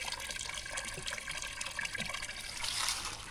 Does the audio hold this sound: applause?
no